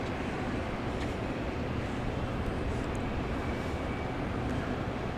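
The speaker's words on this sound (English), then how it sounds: "So here comes the Embraer 145" A JSX Airlines Embraer 145 regional jet arriving at Dallas Love Field, a steady, broad roaring jet noise that holds at a constant level throughout.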